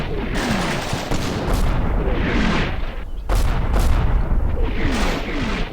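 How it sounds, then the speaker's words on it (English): Artillery fire in the wargame Combat Mission Black Sea: heavy booms and rumbling blasts roll in repeatedly, with crackling gunfire mixed in, loud and continuous throughout. "We've got more artillery coming in"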